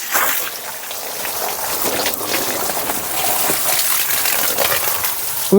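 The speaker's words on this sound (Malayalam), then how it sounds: "ഇനി നമുക്ക് മോട്ടറടിച്ച് വെള്ളം നിറയ്ക്കാം" A motor pump pours water into a fish pond in a steady, full gush that splashes and trickles continuously throughout. The flow is loud and close, with no talking.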